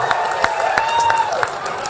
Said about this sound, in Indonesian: Tepuk tangan dulu, lihat tepuk tangan dulu.